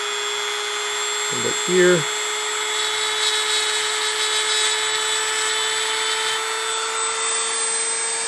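A handheld rotary tool fitted with a diamond burr grinds the shine off a handmade Christmas ornament, a steady high-pitched whine throughout, with a brief spoken remark near the start.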